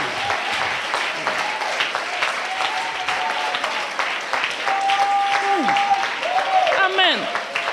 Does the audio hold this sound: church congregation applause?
yes